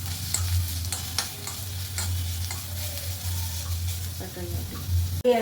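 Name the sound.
dry-roasting curry leaves without oil in a pan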